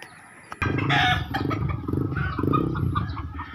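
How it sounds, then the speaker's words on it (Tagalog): Several chickens cluck and call together at close range in Caloocan City, Philippines, a busy overlapping chorus of fowl with a brief crow-like note. "Ang daming manok, oh. Ang daming mga manok."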